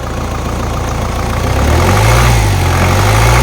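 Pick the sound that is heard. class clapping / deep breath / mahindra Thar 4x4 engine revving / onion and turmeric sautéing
mahindra Thar 4x4 engine revving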